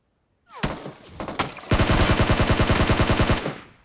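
SCAR-L rifle fire in the mobile shooter BGMI: a few single shots, then a long rapid burst of evenly spaced loud reports lasting nearly two seconds before stopping.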